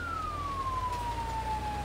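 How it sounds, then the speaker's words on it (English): A fire engine siren in Firefighting Simulator wails in a single long descending tone over a low engine rumble, steady and moderately loud. "Emergency lights on. Siren on."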